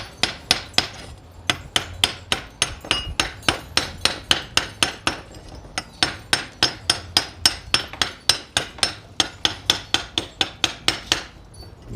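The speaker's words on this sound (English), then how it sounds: "So now let's see whether our chipping hammer works." A homemade welding chipping hammer knocks slag off a weld in a rapid series of about thirty sharp metallic strikes, steady and close with brief pauses, no voices.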